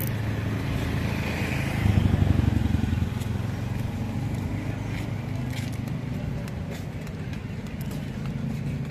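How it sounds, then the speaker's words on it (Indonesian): A motorcycle engine passes close by at a busy flea market, swelling briefly then fading into a steady street rumble, with faint background chatter. "Ini motor ya."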